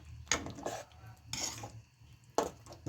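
A spoon scrapes and clinks against a pan while spicy tempered rotlo is stirred, three distinct scraping strokes with a softer background rumble between them, fairly close and without speech.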